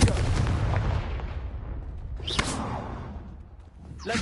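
A Confringo fire spell bursts in the Hogwarts Legacy video game: a loud blast with a dense rumbling tail that slowly fades, then a second sharp whooshing crack and another at the end.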